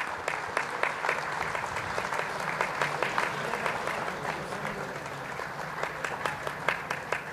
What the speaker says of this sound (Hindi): आप सभी से नम्र निवेदन है कि तालियां खूब बजनी चाहिए